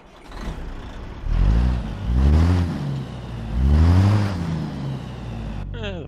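A truck engine in American Truck Simulator, hauling a Caterpillar AP1055F load, revs up and down in three rising surges with a clear harmonic whine, loud and close, settling to a steady idle at the end.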